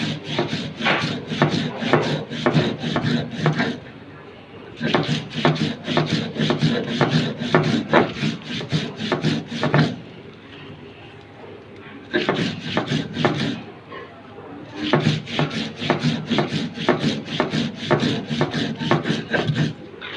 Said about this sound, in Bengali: নারকেলটাকে একদম মিহি করে বেটে নিতে হবে।